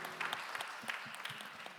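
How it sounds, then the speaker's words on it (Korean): A church congregation at a Korean Sunday young-adult worship service applauds, giving a brief patter of scattered, uneven hand claps that sound fairly faint and roomy. "우리 박수로 서로의 삶을 응원하며 축복합니다."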